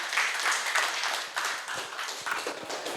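Applause from a small audience at an Indonesian talk-show taping, a dense patter of clapping hands held for a few seconds at moderate distance and fairly faint.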